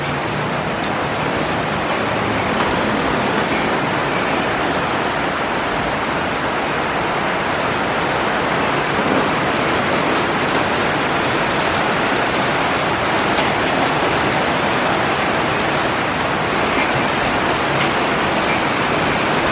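Heavy rain pours steadily outdoors during a bike ride through a downpour, a loud, dense and unbroken wash of falling water with no voices.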